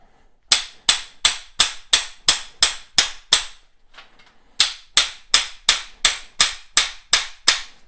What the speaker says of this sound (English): we're gonna end up swaging just up until or just before the swaging tool bottoms out for that size